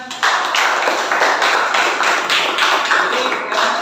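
A classroom of students claps for a classmate, producing loud, close, steady clapping with a regular pulse that runs for nearly four seconds with almost no talk.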